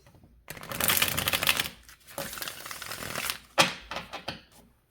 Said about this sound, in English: One more good shuffle, just for good measure.